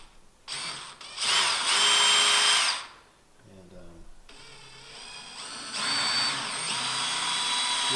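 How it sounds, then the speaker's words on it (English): A cordless power drill bores into wood while building a top cap, two bursts of high whining motor with a short pause between, a voice speaking briefly during the gap. "we can just go ahead and take our drill again"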